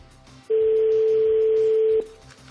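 A single steady ringback tone sounds on a telephone call, holding loud and unbroken for about a second and a half before cutting off, over a faint room murmur.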